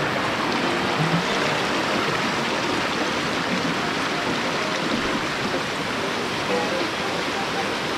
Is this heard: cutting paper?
no